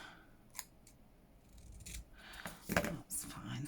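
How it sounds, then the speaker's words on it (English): Small scissors snipping paper for junk journal ephemera, a few quiet crisp cuts with a brief rustle, the louder snips near the end. "I'm just going to need my little scissors for some of them"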